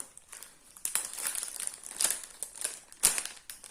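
Tight Wankul season 1 trading card booster pack being pulled open, close crinkly foil crackles in several short bursts with sharp peaks near the end.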